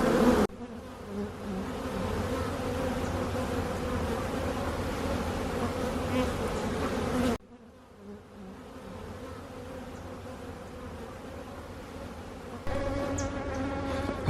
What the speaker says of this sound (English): you see the bees coming home because of the rain